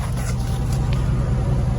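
A Chevy truck engine running without an aftermarket cam: a smooth, steady low rumble close by, even and unbroken, with no voices over it.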